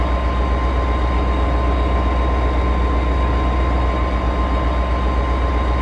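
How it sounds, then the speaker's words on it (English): MARC Penn Line commuter train from Washington DC toward Baltimore in a train simulator game, a steady low engine drone and rolling rumble with a faint constant hum, no talk. "this train's sounds are also hyper-realistic"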